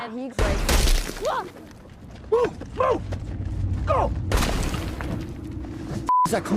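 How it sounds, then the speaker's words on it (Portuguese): Sniper rifle shots from a distance in a tense street scene of The Last of Us TV series episode 5, sharp loud cracks and booms amid shouting voices, debris and mechanical clatter. "parte dele atirando com o sniper de longe nos infectados"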